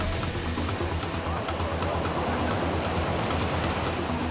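Rough surf pounding the shore at Haeundae beach during a lifeguard rescue, a continuous loud broadband roar of crashing waves with a steady rumble and no pauses.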